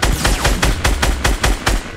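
Rapid bursts of video game gunfire ring out close and loud, about eight sharp evenly spaced shots crackling in a steady rhythm with no talking over them.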